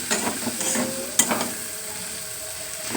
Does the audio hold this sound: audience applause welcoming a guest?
no